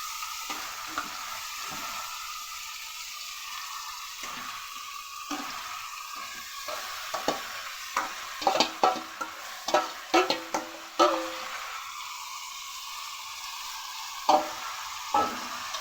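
Food frying in a pan with little oil, sizzling quietly before a burst of rapid scraping and clattering stirs in the middle, then settling back to a soft sizzle with a final stroke, close and without any voices.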